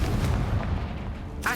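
A Confringo blasting spell explodes in the video game Hogwarts Legacy, a heavy booming roar that fills the moment before trailing off, with a short voiced burst at the end.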